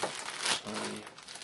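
Clear plastic packaging from an anime action figure unboxing crinkles close up in a brief, busy rustle that swells and then fades, with no voices.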